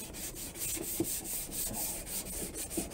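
Hand sanding on wood: a steady series of close, scratchy strokes in an even back-and-forth rhythm, about three or four per second.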